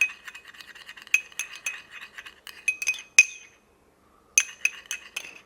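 A spoon clinks and scrapes against a bowl while a corn and aloe vera face pack is stirred, with quick irregular taps, a short pause, then more clinking, close and fairly faint.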